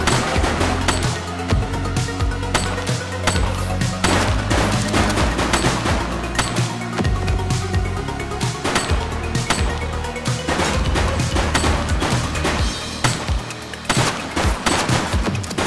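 Sustained gunfire in The Precinct video game, loud repeated bursts and single shots crowding together over a constant rumbling background, close and continuous.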